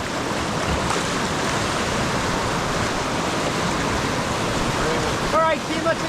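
Class 4 to 5 river rapids on the Nenana River, heard from a raft as a loud, unbroken roar of rushing whitewater, with a few brief voices near the end.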